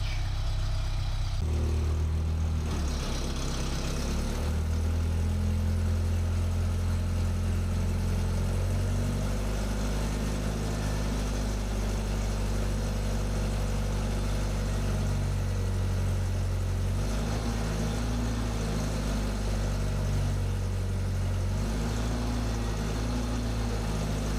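An old crane's engine runs rough and uneven, missing on one cylinder, with a steady low mechanical drone that holds close and loud throughout, shifting slightly in pitch without settling into a smooth idle.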